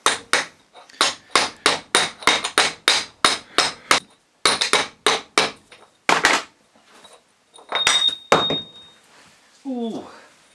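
A round-headed hammer repeatedly strikes a part of a Bosch solenoid to bang it out, giving a close, loud series of sharp metallic blows in quick bursts with short pauses, then a few scattered knocks and brief clatter at the end.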